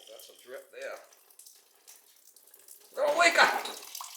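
Water dripping and splashing from a leaking pipe on a boiler during a repair job, a brief burst of wet trickling after some faint handling noises.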